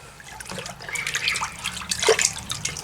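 Water runs a second time through a filter while separating clay from dirt, a steady trickle with dribbling splashes building near the end, close and fairly quiet, with no talking.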